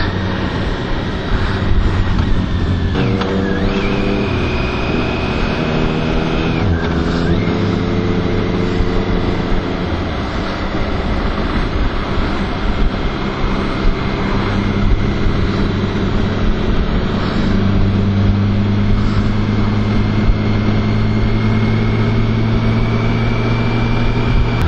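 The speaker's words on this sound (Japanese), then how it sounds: "西に向かって走ってます。" A BMW K1600GT touring motorcycle cruising along a road toward the Okayama Blue Line, its steady engine drone and rushing wind noise loud and continuous throughout, with gear-change shifts in pitch.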